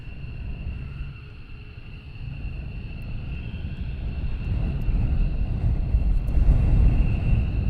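Military jet aircraft at RAF Lakenheath, where F-15s fly, give a low broadband roar that builds steadily and grows louder toward the end, as from an approaching or taxiing jet, with no voices.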